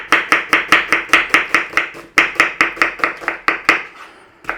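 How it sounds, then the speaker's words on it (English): A knife slicing onions on a cutting board to make beef and onion jam: a fast, even series of about twenty crisp chops close by, with one short break partway through, then quieter handling at the end. "it's a straightforward slice on your onions. Now slice it any which way that you normally do"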